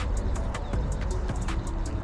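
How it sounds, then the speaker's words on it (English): A pigeon or dove cooing beside a pond after rain, soft repeated coos mixed with brief chirps over a steady outdoor rumble of traffic and wind, fairly close. "Don't know why this particular bird's so interested in this."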